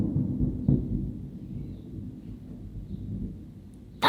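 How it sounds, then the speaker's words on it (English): Low thunder rumbles from an approaching storm, a deep, sustained murmur that swells softly and fades, with a sharp brief crackle at the very end. "thunder!"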